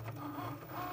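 A cutting machine slices iron-on vinyl (HTV), giving off a steady, quiet mechanical whir and hum with faint motor buzzing, close and alone with no talking.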